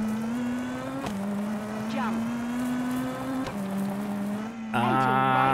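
A rally car in WRC 2 sustains a steady engine drone through a hairpin, its pitch shifting as gears change and revs rise, with a brief skid and a roaring surge at the end while someone talks over it.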